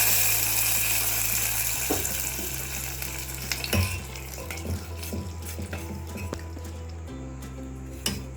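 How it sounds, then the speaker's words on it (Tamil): Mustard seeds, urad dal and two dried red chillies tempering in hot oil in a home kitchen, a steady close sizzle with occasional pops and clinks of a spoon against the pan, and no talking. "எண்ணெய் போட்டு கடுகு உளுந்தம் பருப்பு வரமிளகாய் 2 மட்டும் போட்டு தாளிச்சுக்கலாம்"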